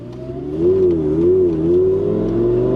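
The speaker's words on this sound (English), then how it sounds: "pretty good downshifts" Lamborghini Gallardo Spider engine rumbling loudly and steadily through downshifts, its pitch wavering up and down as revs blip and settle, heard close with no talking.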